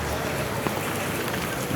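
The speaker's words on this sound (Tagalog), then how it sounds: "nabutang tayo ng ulan dito" Steady rain pours outdoors near the Manggahan Floodway, a dense continuous hiss with faint patter, close and fairly loud, with a wind-like wash underneath.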